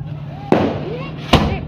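Firecrackers set off during Diwali pop in two sharp bursts against a steady background hum, with faint voices nearby.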